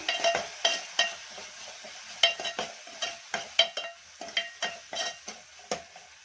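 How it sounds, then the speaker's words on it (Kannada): A spoon stirs turmeric into onion and tomato frying in a pan for a cluster bean dish, with a dozen or so distinct scraping strokes at an even pace over a soft background sizzle. "ಈಗ ಮತ್ತೆ ಒಂದು ಸ್ವಲ್ಪ ಮಿಕ್ಸ್ ಮಾಡ್ಕೊಳ್ಳೋಣ"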